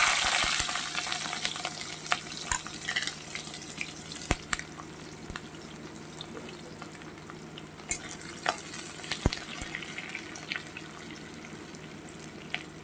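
Onion and green chilli fry in oil in a pan with a steady sizzle, scattered crackles and pops, and stirring clicks now and then, no voices.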